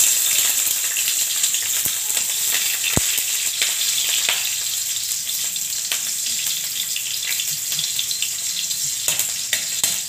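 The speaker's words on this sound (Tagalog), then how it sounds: "Ako sa dining gisahon ang bombay." Onion sizzles and sautés in a hot frying pan for beef steak, a steady crackling fry close by with occasional sharp pops and light stirring clinks, and no talking.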